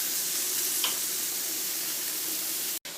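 Mutton pieces, boiled beforehand, fry in a pan with a steady close sizzle and hiss that runs unbroken until a brief sharp cut near the end.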